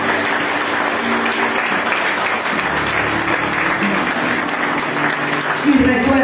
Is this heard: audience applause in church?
yes